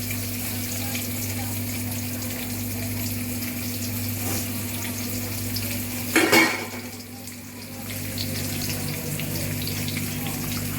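Chopped onion fries in oil with bay leaf and whole spices for a beef and taro curry. A steady low sizzle runs under a constant background hum, with a brief clatter of a utensil midway.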